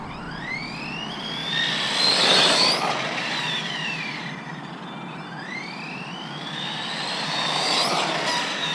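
An ATV engine on Scorpion belted tires revs on a street, its pitch climbing and falling in long loud sweeps, with two strong rises close by and no talk.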